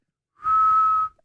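A single steady whistle through pursed lips, one clear sustained tone held for about half a second, close and fairly loud, with no other sound around it.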